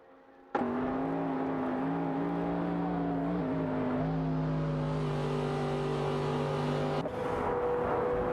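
A Porsche 911 991 GT2 RS race car engine in a racing game holds a loud, steady high-rev drone that starts abruptly, sustains with a slight pitch dip and shift, then changes sharply near the end, with no talk.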